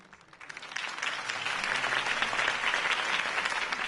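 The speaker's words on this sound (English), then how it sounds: "could have heard that applause" A crowd breaks into applause that swells quickly and holds as steady, dense clapping, fairly close and loud.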